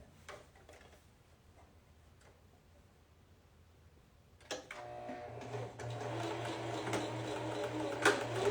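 A sewing machine stitching a skirt seam starts up partway through after a quiet stretch, then runs steadily with a close, even mechanical hum and fast ticking until the end.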